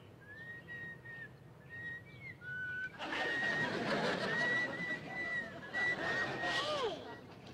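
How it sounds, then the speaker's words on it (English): A person whistles a few thin sustained notes, then keeps whistling over a burst of noisy chatter and laughter nearby. "I'm gonna learn to whistle today."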